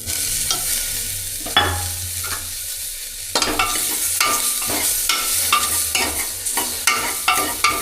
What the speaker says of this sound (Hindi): अब इसके अंदर टमाटरों को भी फ्राई कर देता हूँ।